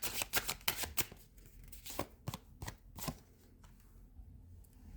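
Tarot cards being shuffled and handled, with a run of quick dense card riffles and slaps early on, then a few sharper separate flicks and softer handling toward the end, close and moderately loud with no talk.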